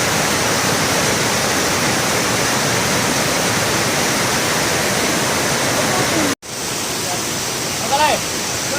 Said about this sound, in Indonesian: Telaga Biru, puncak air terjun Tujuh Bidadari.